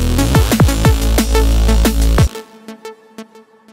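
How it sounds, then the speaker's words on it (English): A basic multi-band Reese bass patch from the Phase Plant synth plays loud and close, a thick, buzzing low tone with repeated pitch-bending notes for about two seconds, then cuts to sparse quieter hits that fade out. "let's start showing with what this would sound like if we just had a basic multi-band Reese."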